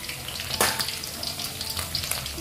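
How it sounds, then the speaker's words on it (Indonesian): Smoked fish fries briefly in hot oil, giving a steady crackling sizzle with occasional sharper pops, close and fairly loud, with no speech. "ini ikan karpetan ya, atau ikan asap. Kita sebentar aja gorengnya"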